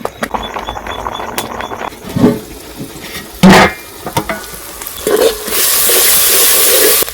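Tomatoes and wild vegetables (odielo, apoth) stirred and mixed in a pot over a village fire, with scraping and clattering spoon strokes, soft bubbling and a loud steady sizzle toward the end.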